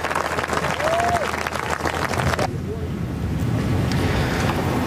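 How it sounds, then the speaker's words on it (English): Strong wind buffets across an open links golf course at the 2011 Open Championship, roaring loudly and steadily into the microphone with crowd noise mixed in. "Wind is really cooking."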